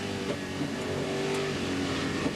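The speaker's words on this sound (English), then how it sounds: "Big V8 engine, loads of power." A TVR Tuscan race car with a big V8 on a racing circuit during a 1990 Tuscan Challenge race, its engine droning steadily and loudly under load for a couple of seconds, with no speech.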